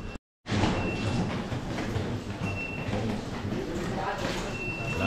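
A train rolls through the London rail system with a steady rumbling, rattling drone. Faint high squeals are heard now and then, and the sound starts after a brief silent gap at the beginning.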